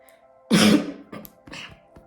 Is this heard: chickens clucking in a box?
no